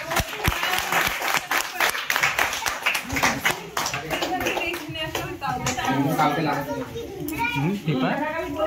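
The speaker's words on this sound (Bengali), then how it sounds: "হাততালি দাও।" Children clap together at the results of an art competition, a dense burst of applause mixed with excited young voices chattering and calling out over it.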